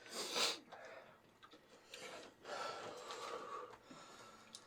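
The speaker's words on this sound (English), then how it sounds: "You gotta blow your nose with whatever you got" A loud, wet nose blow up front, followed by scattered sniffs and snuffling breaths, close and alone with no talking.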